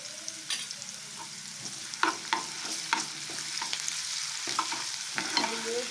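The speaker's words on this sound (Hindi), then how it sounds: "प्याज हाफ ब्राउन हो चुका है। अब इसमें मैं लहसुन अदरक का पेस्ट" Half-browned onions with garlic-ginger paste fry in a pan, a soft steady sizzle broken by repeated scraping stirs of a spoon, fairly quiet and close, with no talking.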